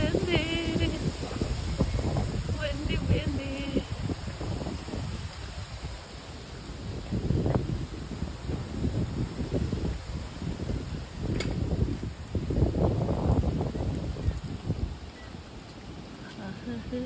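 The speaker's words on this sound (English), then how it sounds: "Look, very windy." Gusty wind buffets the microphone during an outdoor walk among trees in Port Washington, a rough roaring rush that swells and eases, with a person talking over it.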